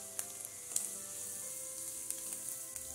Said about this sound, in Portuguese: Vai continuar fritando aqui, eu vou colocar a calabresa.